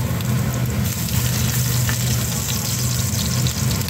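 Chopped ginger frying in hot oil in a pan, a steady dense sizzle that holds loud and close throughout without pauses, with no talk.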